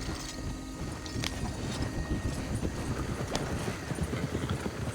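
Horse hooves clip-clopping steadily on a path in the Red Dead Redemption 2 video game, a continuous close rhythm of hoofbeats over a light wind bed, with no talk.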